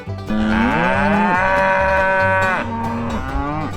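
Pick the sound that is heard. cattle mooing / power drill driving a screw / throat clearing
cattle mooing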